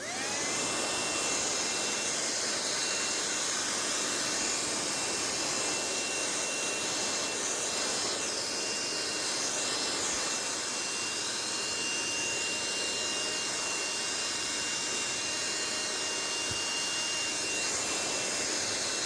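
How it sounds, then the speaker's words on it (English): A steady, high-pitched whine of a small BLACK+DECKER cordless handheld vacuum runs continuously, close and loud, with a slight rising and falling pitch as it works into crevices between couch cushions. "vacuum in between couch cushions"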